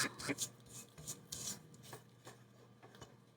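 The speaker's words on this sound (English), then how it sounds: "Trying to scrape this down, y'all." A spatula scrapes down thick pound cake batter in a mixing bowl, a run of quiet rasping strokes and soft knocks in an uneven rhythm, close and faint, with no talk.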